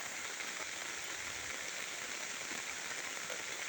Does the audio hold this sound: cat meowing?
no